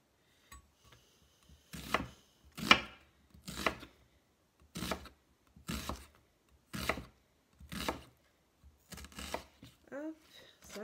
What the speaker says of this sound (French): Et on va venir couper en lamelles pas trop épaisses.